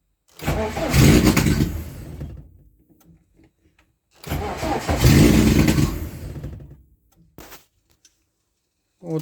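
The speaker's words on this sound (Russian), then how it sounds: "Она заводится и глохнет." A car engine cranks and catches twice, each time running roughly for a couple of seconds before cutting out and stalling, loud and close, followed by faint clicks, with no talk.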